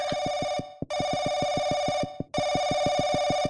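Loud, insistent ringing from a downstairs telephone in the game Paranoiac comes in long bursts with short silences, over a rapid, evenly pulsing rattle.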